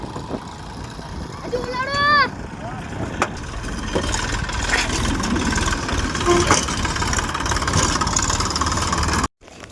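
A tractor engine idles on a farm field, a steady low rumble running throughout, briefly joined by a bird's chirping call near the start.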